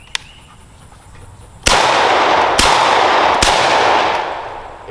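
Three loud, sharp shotgun blasts from a Super Vinci firing Federal Top Gun 1 ounce loads, spaced about a second apart, each with a long rumbling tail, following a faint click.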